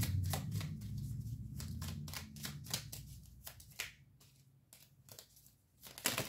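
Tarot cards shuffled by hand in a quiet room, a close, faint run of crisp riffling slaps and soft flutters in an uneven rhythm.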